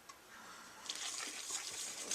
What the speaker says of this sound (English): Now I'm going to add the liquid